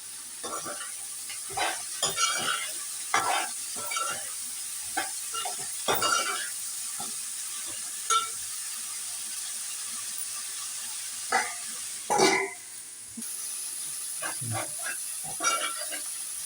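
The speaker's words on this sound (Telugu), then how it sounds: "ఉల్లిగడ్డలు వేగినాయి" Onions frying in a pan with salt hiss softly and steadily, while scattered stirring scrapes and clatters cut in at irregular intervals, close by.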